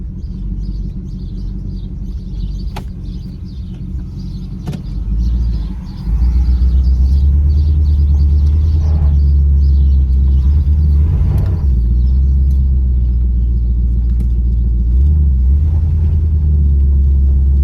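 An old car with a 429 cubic inch engine rumbles loudly and steadily at close range, its low drone growing heavier as it pulls away and keeps driving with a sticking brake.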